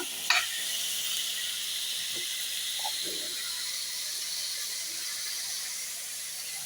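Tomato and onion fry in a pan, a faint, even, hissing sizzle that holds steady throughout, with a single small knock near the start.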